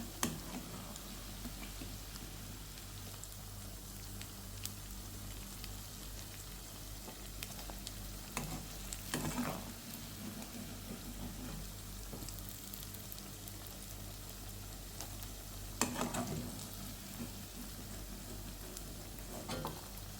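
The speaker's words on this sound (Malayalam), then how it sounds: "ഇനി ബാക്കിയെല്ലാം ഇതുപോലെ നമുക്ക് വറുത്തെടുക്കാം." Soya chunks fry in hot oil with a steady low sizzle and crackle throughout, broken by a few louder scraping stirs near the middle and later, with no talking.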